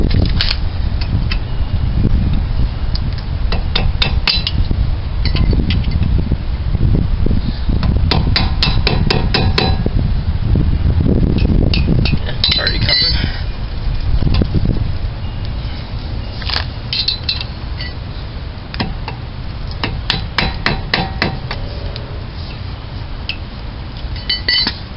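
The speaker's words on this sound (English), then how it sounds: "I'll go grab the chisel." Repeated metallic hammer blows on a chisel, driving out a rear wheel bearing cap on a 1992 Dodge Stealth FWD, with sharp irregular strikes over a steady low mechanical hum throughout.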